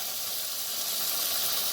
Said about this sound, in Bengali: এই যে দেখো মশলাটা ভালো করে কষিয়ে নিচ্ছি আমি